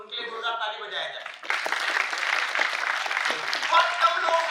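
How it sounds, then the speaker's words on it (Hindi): A university audience breaks into loud, dense applause after a short stretch of a voice, the clapping swelling and holding steady to the end. "बिल्कुल उनके लिए जोरदार ताली बजाया जाए।"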